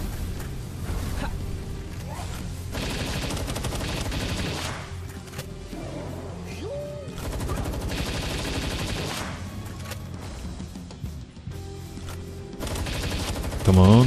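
Rapid bursts of automatic gunfire from a video game fire at close range in repeated volleys with brief gaps, with a louder blast at the end.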